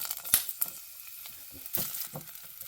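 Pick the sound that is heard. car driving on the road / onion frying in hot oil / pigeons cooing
onion frying in hot oil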